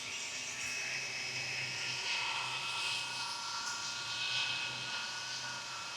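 Steady whirring rotor and motor drone of a Fly Wing EC135 RC helicopter hovering in place in light wind, continuous and fairly loud, with no breaks.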